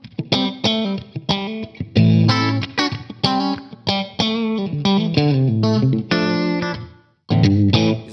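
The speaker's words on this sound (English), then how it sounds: "it's a very short reverb to create the room ambient." An '80s-style electric guitar rig run through effects and distortion, played with a short room reverb that adds a tight ambient tail to the chords and single notes, which ring out loud and continuous, breaking off once near the end.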